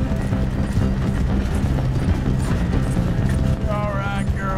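Horse hooves clatter in a steady galloping rhythm in the Wild West video game Red Dead Redemption 2, loud and continuous beneath music and game sounds, with a whistle-like tone near the end.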